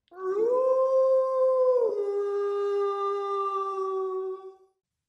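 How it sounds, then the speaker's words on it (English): Jackal howling on a cold night, a single long, clear tonal howl that holds steady, dips slightly in pitch midway and then fades out, heard alone without talk. "On cold nights, Dog's friend Jackal calls to him"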